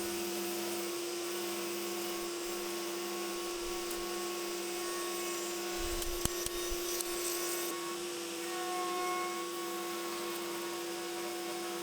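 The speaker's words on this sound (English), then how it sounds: "This part of the cut can be a little bit sketchy as it's cutting against the grain" Power saw cutting through wood against the grain while making bar stool legs, a steady whining drone with a brief rougher burst midway, close and continuous without talk.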